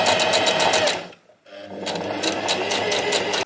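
A sewing machine stitches fabric for a copper Mardi Gras outfit, a loud close rapid whirr that pauses briefly partway, then resumes steadily until it stops abruptly, with no talking.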